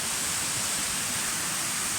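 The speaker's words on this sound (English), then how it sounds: "this is the first waterfall on the Waterfall Walk or trail." Steady, dense rushing roar of the first waterfall along a walking trail, a constant broadband wash of falling water heard up close with no pauses and no voices.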